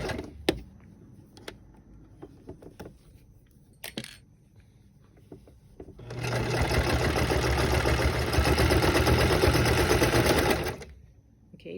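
Scattered small clicks and handling sounds come first, then a sewing machine stitching through four layers of a stretch velvet mask runs loud and steady for about five seconds before stopping.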